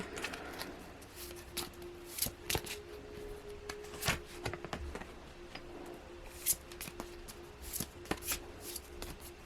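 Tarot cards being shuffled by hand, a steady run of soft riffling and slapping bursts, close and fairly quiet, with a faint steady hum underneath and no talking.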